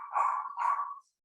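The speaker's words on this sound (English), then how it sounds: "I'm so sorry about the dogs." Two short, close yelps or barks from dogs in an indoor home setting, each about half a second and loud, with no one speaking.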